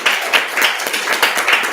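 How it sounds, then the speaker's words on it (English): A brief burst of audience clapping at a school board of education meeting, a close, fairly loud patter of hands with slightly uneven accents and no speech. "let's give our school board a round of applause."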